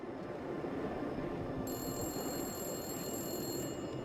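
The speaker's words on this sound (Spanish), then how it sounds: "el teléfono público comenzó a sonar" A pay phone at a gas station rings continuously at night, a steady electronic ringing heard faintly through a thick wash of background noise.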